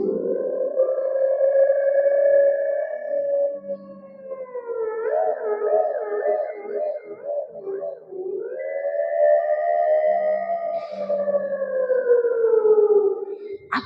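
A voice imitates a wailing ambulance siren, rising and falling in long sweeping tones with a warbling stretch in the middle, steady and fairly loud.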